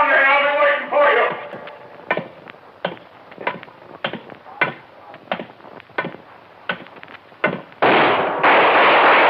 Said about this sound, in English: Good shot, Dollar.